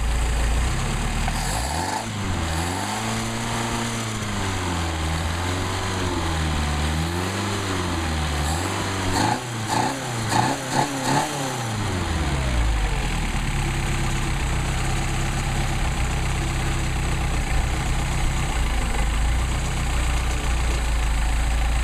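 A Mercedes 190SL engine running on Solex carburetors, revving and falling in a wavering rhythm before settling into a steady, loud, close idle with no talking.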